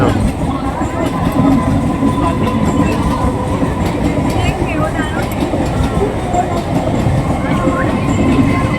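A local commuter train rumbles past close by, a loud continuous roar with rhythmic clattering of wheels on the rails, voices faint underneath.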